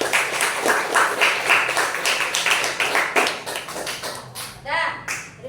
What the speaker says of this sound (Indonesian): Tepuk tangannya untuk Valdis dulu